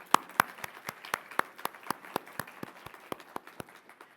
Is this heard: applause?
yes